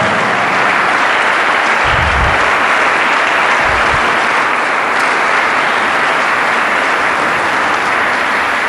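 A church congregation at Sainte Thérèse de Keryado in Lorient gives Michel loud, sustained applause, a thick wash of clapping from many hands lasting the full stretch without letup.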